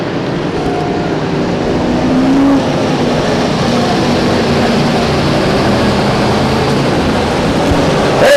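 Race car engines roaring around the Stockton 99 Speedway oval in 2003, a loud continuous drone of several cars passing at speed, with no talk over it.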